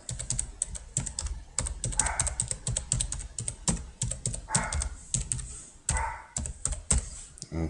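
Typing on a computer keyboard close up: rapid, uneven runs of crisp key clicks and thunks with short pauses between bursts, no voices.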